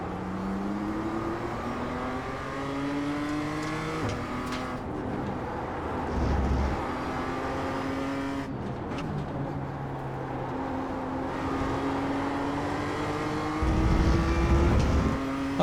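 A BMW M2 laps the Okayama race circuit, its engine droning steadily from inside the car as it climbs through the revs and drops with each gear change, holding a constant, moderately loud note.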